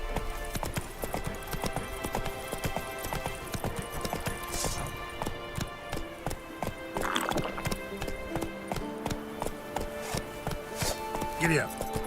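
Horse hooves clip-clop steadily in The Witcher 3, a continuous rhythmic patter of game footfalls with an occasional brief whinny, running under background game sounds.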